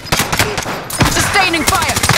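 Video-game gunfire rattles in sustained, rapid bursts, loud and close, with a brief break partway through, mixed with game sounds and a faint voice.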